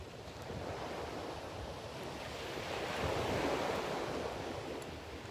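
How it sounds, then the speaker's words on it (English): Wind and ocean waves rolling onto the shore make a steady, loud, broadband wash that swells slightly midway, with no voices. "We've got a little bit of wind and a little bit of waves down here today."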